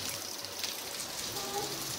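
Steady rain falls outside a restaurant terrace in a forest, a continuous soft hiss close by with no talking over it.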